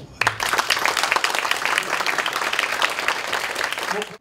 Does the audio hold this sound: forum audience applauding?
yes